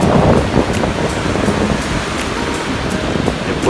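Ocean surf at Praia do Francês beach in strong wind, a broad steady roar of breaking waves mixed with gusty wind buffeting the microphone, loud and continuous with no talk.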